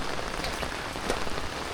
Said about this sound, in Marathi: आणि पावसाला सुरुवात झाली